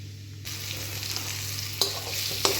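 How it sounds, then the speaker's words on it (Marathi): Bitter gourd pieces stir-fried in a wok with oil, cumin, mustard seeds, turmeric and chili powder, giving a steady close sizzle with two sharp scraping clatters of a spatula against the pan and no talk. "आता या कारल्याच्या फोडी घालून त्या मी कढईमध्ये थोड्याशा परतून घेतलेल्या आहेत."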